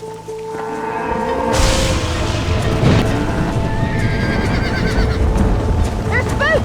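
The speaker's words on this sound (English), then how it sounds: "They're spooked! We have to stop the stampeding!" Spooked horses whinny and neigh while hooves pound in a stampede in the video game Red Dead Redemption, loud and continuous under a rumbling game soundtrack.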